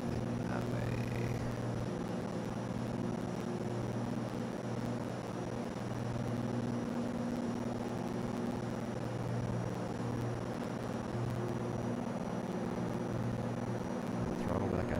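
Piper Turbo Arrow IV propeller engine in X-Plane 11, a steady close droning hum with constant tonal bands and no breaks, with occasional talk over it.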